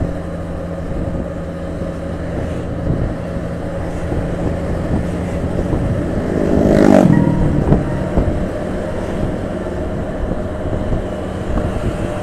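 A legendary Alisma intercity bus from West Sumatra passes by, its engine a steady low rumble that swells to a louder roar around the middle before settling back, with wind noise throughout and no talking.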